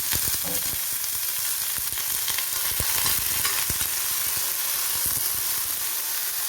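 Sliced ivy gourd and ridge gourd stir-fry in a pan for a home-style thoran, giving a steady, close sizzle broken by scraping spoon strokes, with no talking.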